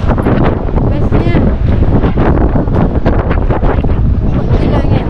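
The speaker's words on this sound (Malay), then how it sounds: "Ui, kuatnya angin." Heavy gusts hit the microphone on a windy family trip in Alor Setar, producing a constant loud low roar with flapping bursts, and voices speak through the noise.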